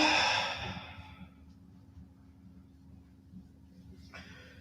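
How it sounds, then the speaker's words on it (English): A forceful exhale during yoga breathing, a strong breathy rush at the start that fades into quiet room tone, with a faint short breath near the end. "exhale, pull yourself in and down, get all the air out, push all the air out"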